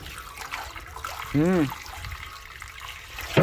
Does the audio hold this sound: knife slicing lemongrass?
no